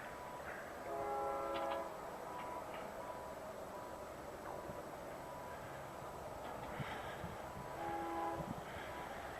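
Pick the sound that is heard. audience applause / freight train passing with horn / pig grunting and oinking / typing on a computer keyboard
freight train passing with horn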